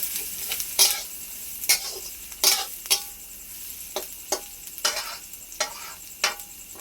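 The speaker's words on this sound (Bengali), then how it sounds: "পেঁয়াজটা আমি লাল লাল করে ভেজে নেব।" Chopped onions fry in a pan for beresta, a steady sizzle punctuated by about a dozen sharp scraping strokes of a spatula stirring them, close and fairly loud with no talking.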